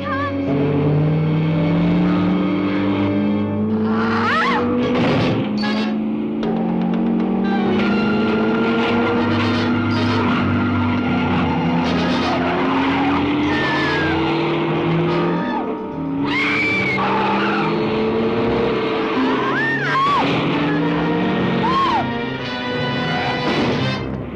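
Car skidding and crashing into another car and a person in a 1978 film scene, loud and sustained throughout, with an engine drone, screeching tire-like tones and impact noise mixed with dramatic score.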